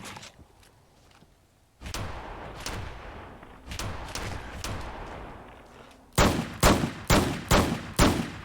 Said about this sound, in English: Pretty sure I hit him a few times with the shotgun